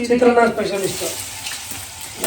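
Oil sizzles and fries in a pan while chitranna is being cooked, a steady close crackle under a voice that speaks over the start.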